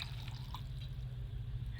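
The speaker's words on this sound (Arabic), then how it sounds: "وهنزل عليها بكوبايه ميه" Water poured from a cup into a pot of potatoes on low heat, a steady close trickle and splash running throughout with a low rumble beneath.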